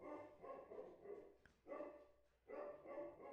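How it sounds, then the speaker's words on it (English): A pet dog barks in three bursts with short gaps between them, close by and fairly loud indoors, and no voices are heard. "My dog's losing her crap."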